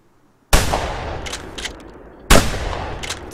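Two loud gunshots ring out in a video game, each a sharp crack followed by a ringing, echoing tail, spaced under two seconds apart.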